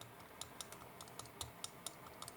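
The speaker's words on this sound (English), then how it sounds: "So now let's open a keyboard and try to type." Keyboard sounds on a Redmi Note 15 Pro 5G phone tick out as a quick, uneven run of light, crisp clicks, close and faint, with no talking.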